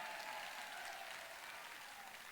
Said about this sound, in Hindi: थोड़े ताली थोड़ी जोर की मार दो, जितनी जोर की मारोगे उतना ठीक सौदा मिलेगा